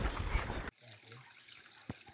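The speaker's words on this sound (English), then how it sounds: "We've stopped off at a little waterfall." A small waterfall in Madagascar trickles gently, a soft continuous splashing that starts after a loud burst of handling noise and carries a few brief thumps.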